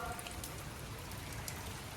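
Steady, even hiss of rain falling continuously, dense and unbroken throughout.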